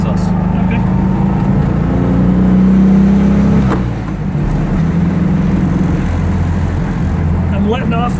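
A 1969 Volkswagen Karmann Ghia drives along, its engine droning loudly with a brief rise and then easing off, heard close from inside the car.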